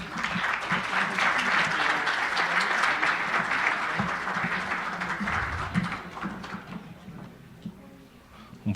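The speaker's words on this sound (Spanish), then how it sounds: "Demos un fuerte aplauso a la maestra Gabriela Gómez Mont" Loud, sustained applause from a seminar audience at a government working panel, thick and even for several seconds before thinning into scattered claps with faint voices underneath.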